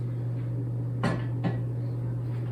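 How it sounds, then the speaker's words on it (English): Two light clinks of lids set down on glass canning jars during dry canning, about half a second apart, over a steady low hum. "I'm gonna just take them and place them on top of the jars"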